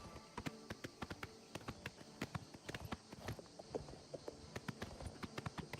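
Horse hooves clopping in Oblivion Remastered, a steady run of sharp, close hoofbeats in quick rhythm under a faint ambient bed, with no talk.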